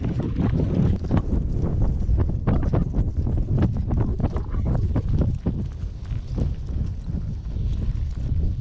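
Horses walking during Wyoming cattle work with cowboys make irregular, close clip-clopping hoofbeats over gusty wind noise.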